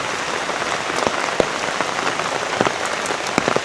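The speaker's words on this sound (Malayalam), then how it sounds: "വേനൽ മഴ." Summer rain in Nenmara, Palakkad, Kerala, falling steadily on surfaces in a dense, close hiss with scattered louder drop impacts throughout, and no voices.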